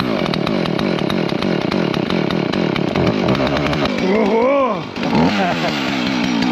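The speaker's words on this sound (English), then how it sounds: "Mario and I just fired up the chainsaw." A chainsaw runs loud and close outdoors in early morning at a stone house in Portugal, its engine buzzing steadily before revving up and down in sweeping bursts.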